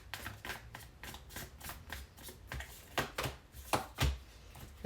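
Tarot cards being shuffled and drawn by hand, a run of soft papery riffles and slaps repeating close up and quiet, with no talk.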